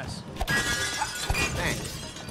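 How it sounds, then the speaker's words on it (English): Glass shattering in the co-op video game It Takes Two, a sharp crash with tinkling shards early on and another smash partway through, with players talking over the game audio. "Wait, can you break this glass?"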